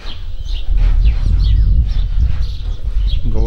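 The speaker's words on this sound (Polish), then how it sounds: "Tutaj mamy gołębnik gołębi młodych." Young pigeons in a pigeon loft make a loud, dense chorus of cooing and chirping calls close by, along with rustling wings and continuous movement, with no talking.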